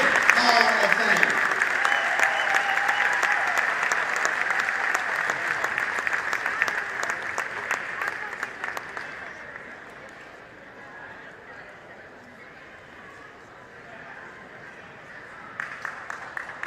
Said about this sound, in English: Everybody give a big round of applause for our first class of the Walker Valley Athletic Hall of Fame